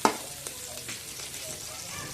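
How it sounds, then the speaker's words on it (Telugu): Almonds, cashews and other dry fruits frying in ghee for ash gourd halwa, a steady close crackling sizzle with light stirring scrapes and no talk. "డ్రై ఫ్రూట్స్ అన్ని వేయించుకోవాలి,"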